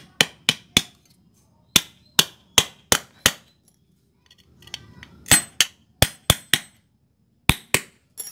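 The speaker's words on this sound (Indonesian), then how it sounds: "Kalau enggak, tak paku aja lah ya yang ini." Hammer driving nails into wood for a patio table template: sharp, loud strikes in quick rhythmic groups of three to four, with a short pause and faint shuffling between groups.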